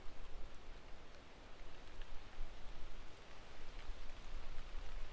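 Steady rain patters down all around in the woods of Tyler State Park, a soft, even hiss of drops with no other sounds standing out.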